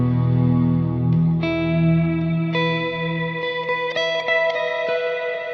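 A guitar chord rings out through a reverb pedal set to a 2.5-second maximum decay, followed by several more struck chords whose shimmering tails wash together; loud and close, with no talking.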